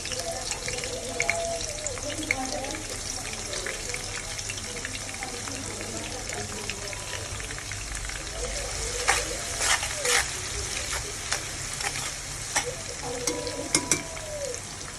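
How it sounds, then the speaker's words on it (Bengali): Onions fry in a pan with a continuous close hiss, dotted with small scattered clicks and spatters that build slightly toward the end. "পেঁয়াজ ভাজবো।"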